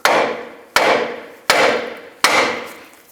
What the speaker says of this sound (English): you can just take a hammer, give it a tap right here